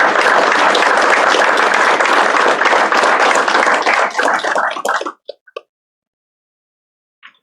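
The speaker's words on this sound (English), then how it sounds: "let's give both of them a round of applause" Audience applause at a career and technical education letter-of-intent signing day fills the room for about five seconds, then tapers off into a few last scattered claps before near silence.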